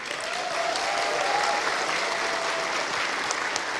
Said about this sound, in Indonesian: tepuk tangan berdiri coba.